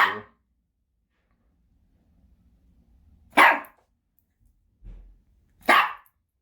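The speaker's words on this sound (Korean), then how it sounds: "그 짖지 말고" A poodle barks indoors, three sharp, loud single barks spaced a few seconds apart, with a soft low thump between them and quiet in the gaps.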